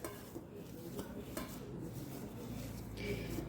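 Quiet scraping and clinking of a utensil against a bowl while orange food colour is stirred into a homemade sweet mixture, soft and continuous with occasional light knocks.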